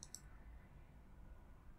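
Two quick, faint mouse clicks on a Windows 10 settings icon come right at the start, followed by quiet room hiss.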